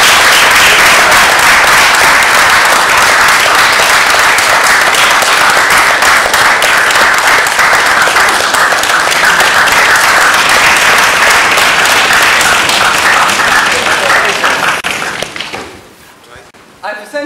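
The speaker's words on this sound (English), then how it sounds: "Please, a round of applause." Loud, close applause from a Toastmasters gathering as an award winner is announced, dense energetic clapping that continues steadily for about fifteen seconds before dropping off abruptly near the end.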